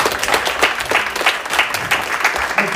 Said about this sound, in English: please have a big round of applause for Lucas and Chris